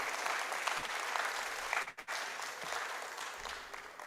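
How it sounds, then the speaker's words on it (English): An audience at a student English competition gives a round of applause, dense steady clapping that briefly dips in the middle before resuming at full strength. "So I would like everyone to give a round of applause"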